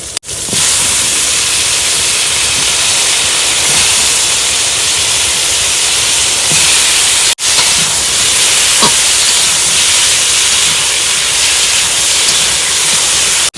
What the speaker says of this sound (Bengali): তেল গরম তো প্রথমে দিয়ে দেবো লঙ্কা চেরা লঙ্কা টাক টাস করে উঠতেছে এবার দেব কাটা আলু